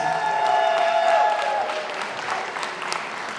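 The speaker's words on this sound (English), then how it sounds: "can we get one more big round of applause for this lovely couple?" Wedding guests applauding the couple at a walima reception, a full crowd clapping loudly that gradually thins and fades, with a faint tonal hum under it early on.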